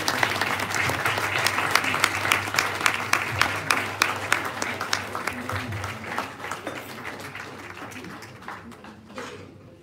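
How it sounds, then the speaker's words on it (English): An audience at a university TV station launch breaks into sustained applause, a thick crowd of clapping hands with some pulsing emphasis, gradually fading over about ten seconds. "The way you clap now was the way they clapped for me after the lecture."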